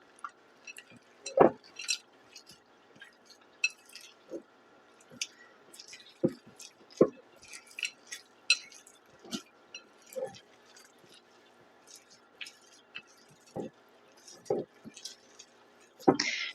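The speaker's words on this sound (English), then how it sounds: "now we're going to fold these chocolate chips in" Chocolate chips folded by hand into keto cookie dough in a bowl, giving soft squishy scrapes and light clinks of utensil against the bowl in an irregular rhythm, close and quiet, with no talking.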